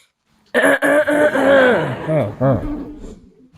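A loud, close burst of coughing and throat clearing, several rough hacks in quick succession that trail off into a throaty chuckle.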